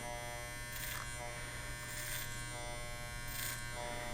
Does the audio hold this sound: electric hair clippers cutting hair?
yes